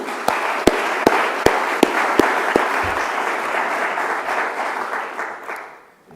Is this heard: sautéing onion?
no